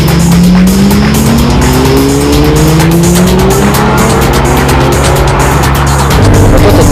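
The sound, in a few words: 580 horsepower Lamborghini Murcielago driving, tyres squealing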